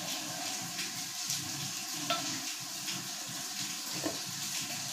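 Cabbage, sweet potato and orange being stirred and mixed in a pot for soup, with soft scraping and wet shuffling sounds and a few light clinks, steady and close with no talk.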